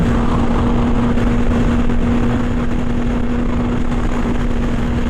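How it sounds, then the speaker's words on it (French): Idling engine and intake of a 675SR-R motorcycle, a steady, close, continuous hum with a constant low drone and no revving. "Le son de l'admission est vraiment sympa."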